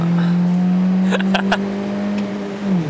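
A 1.6-liter engine in an R50 Mini Cooper idles with a steady hum, then blips its revs in a few short bursts before settling back down.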